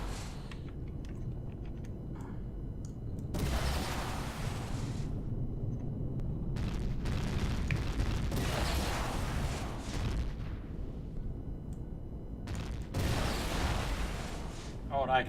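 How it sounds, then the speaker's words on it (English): Many gun turrets shooting at once in a starfighter multiplayer space game, dense rumbling barrages of rapid fire in loud surging bursts with brief lulls between. "It's the problem with having that many gun turrets shooting at once."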